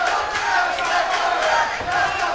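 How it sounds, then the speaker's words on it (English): A boxing crowd at a fight in Choctaw, on the Fres Oquendo versus Obed Sullivan card, roars steadily throughout as a dense wall of excited voices, with no single speaker standing out. "Crowd here in Choctaw really into this fight."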